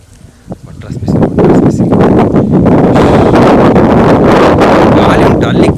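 Strong wind buffets the microphone outdoors in hot weather, a loud continuous roar that builds within the first second and then holds steady.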